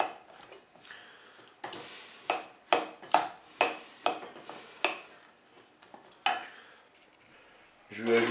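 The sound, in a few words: mixing chopped ham, mushrooms and olive oil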